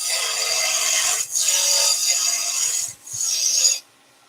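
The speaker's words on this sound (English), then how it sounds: "we're going to go a little 1/4 inch bowl gouge, do the roughing down first with the bowl gouge" A quarter-inch bowl gouge roughs down a spinning wood blank on a lathe, making a loud, steady rasping scrape in three long passes broken by two short pauses, ending abruptly.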